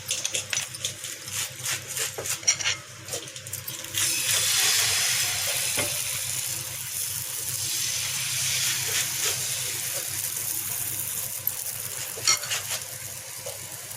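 Ghee heating on a griddle while mandia chakuli pitha is made: a steady hiss that swells after a few seconds, broken by scattered clicks and taps of the pan, close and continuous, with no one speaking.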